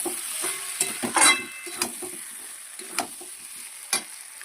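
Potatoes sautéed in spiced oil in a pan, stirred with a spatula: a soft, steady sizzle broken by regular scraping knocks and clinks against the pan, close and fairly quiet.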